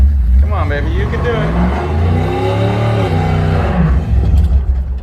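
A worn-out beater car engine revs hard while driving, its loud, droning roar swelling and holding steady close by, with a person talking over it.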